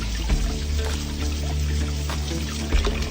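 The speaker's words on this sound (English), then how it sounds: "I'm gonna kind of let this rinse overflow a little bit as I wash these" Tap water pours and overflows from a bowl while oxtails are rinsed by hand, a steady close splashing stream with small bumps of handling, no speech.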